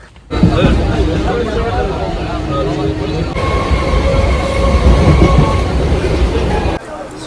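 Rumble and rattle of a moving train bound for Sealdah, steady and loud throughout with muffled voices talking in the carriage and a brief quieter moment at the end.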